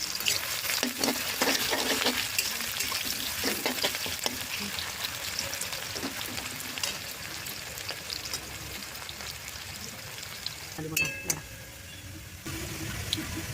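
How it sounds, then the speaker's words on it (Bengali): Sliced onions frying in hot oil in a kadai for biryani birista, a constant dense sizzle with occasional stirring scrapes, close and loud throughout, with a brief clatter near the end. "তো পেঁয়াজগুলো আমি ভেজে নিব।"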